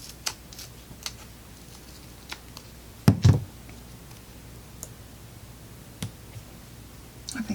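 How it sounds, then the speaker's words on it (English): Paper being cut with Tim Holtz snips, giving sparse, sharp little clicks and snips scattered over quiet, with one louder cluster of cuts near the middle and a few more toward the end. "I am going to use my Tim Holtz snips, and I think we're going to need to cut this in two as well"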